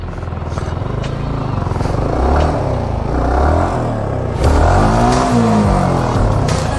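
A Yamaha R15M motorcycle rides off road, its engine droning loud and close with rising and falling revs as it climbs and eases, no talking.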